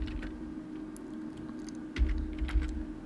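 Keys clatter on a computer keyboard as a command is typed into a mapping drawing program, a close, quiet run of light taps over a steady background hum, with a couple of firmer strokes near the end.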